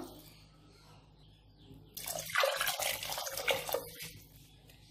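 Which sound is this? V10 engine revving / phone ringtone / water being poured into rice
water being poured into rice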